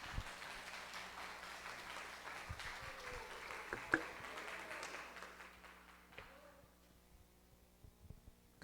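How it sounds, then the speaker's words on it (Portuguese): A church congregation claps for Jesus during an evening service, a moderate, somewhat distant patter of many hands that thins out and fades into near quiet toward the end, with a few louder knocks. "Vamos dar uma salva de palmas para Jesus."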